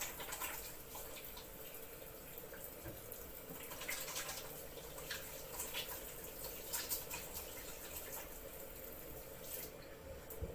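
Running water from a kitchen tap during hand washing while cooking, a steady broadband splash that continues throughout at moderate level, with faint clinks and small splashes on top.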